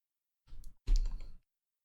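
Computer keyboard keys being pressed, two short close bursts of clicking, the second louder and longer, surrounded by silence.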